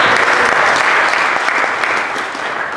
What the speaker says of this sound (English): So big round of applause for both of our big speakers.